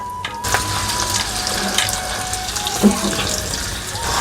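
Chopped ginger dropped into hot oil in a wok after frying cauliflower for chilli gobi, giving a bright continuous sizzle with a few small pops and clinks, close and steady.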